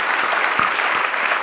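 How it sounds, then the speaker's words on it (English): A big round of applause from a conference audience at a Portland State University summit: loud, dense clapping from a full room that holds steady throughout, with no voices on top. "Can you join me in giving a big round of applause?"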